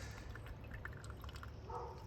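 Water drips and trickles steadily from a freshly watered potted bottle tree seedling, a soft continuous patter close by, with orange-tinged runoff draining from the soil.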